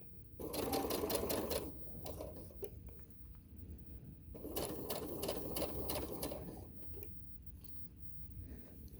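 A sewing machine stitches along a fabric binding edge in two quick bursts of rapid, rhythmic needle clatter, each lasting a second or two, with quieter pauses and soft handling between, heard up close.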